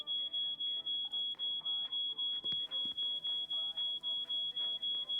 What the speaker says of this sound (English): Okay, can we just switch off that alarm?